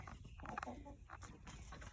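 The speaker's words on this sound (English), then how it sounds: "Oh look, there's a chicken in the bucket" Chickens cluck softly in a farmyard coop near buckets holding eggs, several short clucks and calls over a noisy outdoor background, fairly faint.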